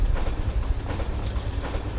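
A tram rolls along its tracks in Resident Evil 3 Nemesis, a low continuous rumble with faint rhythmic clatter, steady and close.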